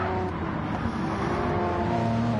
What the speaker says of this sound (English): Tucked up in the slipstream, revving out that 5th gear quite a bit.